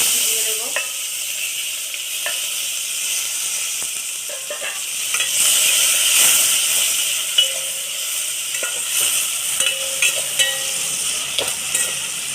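Whole spices, onion and green chili frying in hot oil for rice and egg pulao, a loud continuous sizzle with scattered clicks and scrapes of stirring throughout, no talking.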